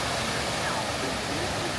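A waterfall in Germany's Black Forest gives a steady, dense rush of falling water, close and continuous, with no voices.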